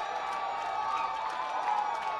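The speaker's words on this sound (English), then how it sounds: "Crowd goes nuts for that one" Crowd at a Sky Sox minor league baseball game in Colorado Springs cheers a home run, a steady wash of roaring voices with scattered whoops and clapping, sustained and loud throughout.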